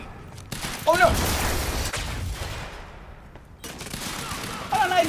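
Gunfire in the video game Quantum Break: sustained bursts of automatic shots and booms fill the whole stretch, loud and close, with short vocal exclamations mixed in.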